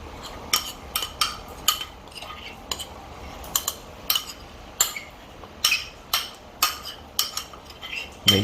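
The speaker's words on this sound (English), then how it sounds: "Make sure you scrape it all out" Utensil scraping pumpkin spice syrup out of a pot, a series of sharp metallic scrapes and clinks in an uneven rhythm, close and clear with no voices.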